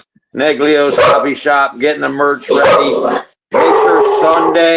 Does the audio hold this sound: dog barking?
yes